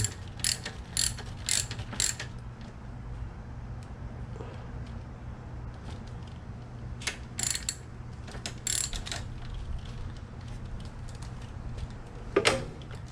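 A bolt being tightened with a ratchet during a cam/crank shaft seal replacement on an engine, bursts of quick clicking ratchet strokes separated by pauses, close and moderately loud.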